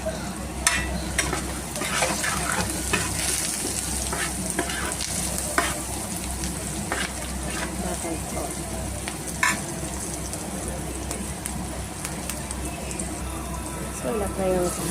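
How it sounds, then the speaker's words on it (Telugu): Fish curry spices with salt, chilli and turmeric frying in a pan, a dense, continuous sizzle broken by repeated scraping and clatter of a stirring spoon, close and loud throughout. "సో ఇలా ఫ్రై అవుతుంది."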